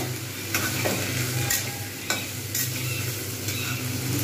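Prawns sizzle steadily in a hot pan, with a few louder scraping stirs of a spatula breaking through the continuous frying hiss; close and no voices.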